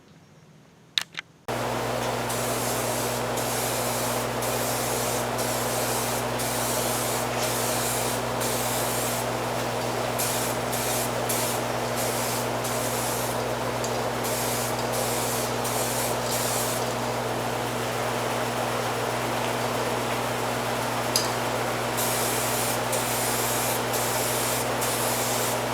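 Steady hiss of a spray gun laying clear coat onto a Honda TL 125 motorcycle fuel tank, running continuously after a short quiet start, with a constant low hum underneath and brief gaps between passes.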